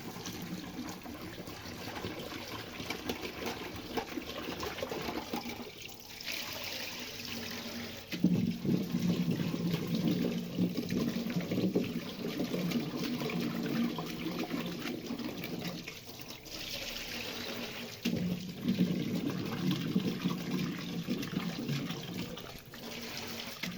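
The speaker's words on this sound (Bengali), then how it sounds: "আলুগুলো ভালো করে ধুয়ে মাটি ছাড়িয়ে" New potatoes being washed in water to rinse off the soil, with continuous running and splashing water like a tap over a sink, steady and close throughout with a few louder surges.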